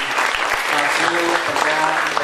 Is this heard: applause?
yes